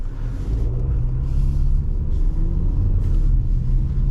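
A BMW with xDrive all-wheel drive rolls over a snowy road, its engine and tyres making a loud, continuous low rumble with slight surges, no talk.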